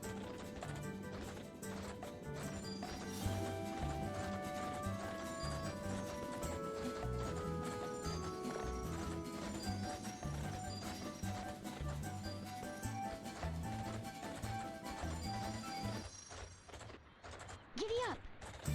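Horse hooves clip-clop at a steady galloping pace in the Barbie Horse Adventures video game, layered under busy game music, with an occasional whinny and the music dropping away near the end.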